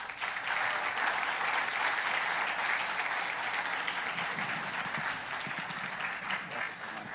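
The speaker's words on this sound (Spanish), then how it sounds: "por favor, recibamos con un fuerte aplauso al doctor" Strong, steady applause from an audience welcoming a guest speaker to a lecture on the Bible and culture, a dense continuous roar of clapping lasting several seconds at constant loudness.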